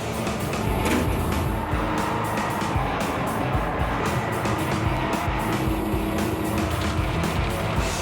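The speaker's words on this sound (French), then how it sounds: "je vais conduire ce M18 Hellcat le plus rapidement possible entre ses drapeaux" M18 Hellcat tank destroyer, a World War II tracked vehicle, driven flat out on a course between flags: a loud, continuous engine roar with track clatter, steady and close throughout.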